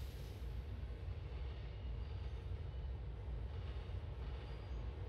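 Subway train rolling steadily in GTA IV with the LTA Subway Improvement Mod, a continuous low rumble of wheels and carriage with no talk.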